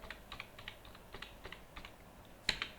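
Keys on a computer keyboard are tapped in a light, uneven run of clicks, quiet and close, ending with one sharper keystroke.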